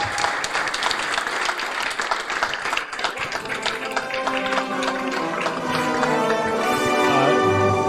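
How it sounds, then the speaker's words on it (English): Applause for award winner Brolly at a Fishburners startup awards event, a crowd clapping loudly and steadily, with a tonal musical sting rising underneath in the later seconds. "A warm round of applause for Brolly."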